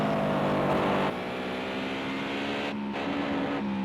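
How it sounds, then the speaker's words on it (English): A Toyota 86 race car engine drones at high revs, shifting pitch as it drops through gears into the final corner, with a brief cut in sound and no talking. "Revving the crap out of that engine as he brings it down through the final corner."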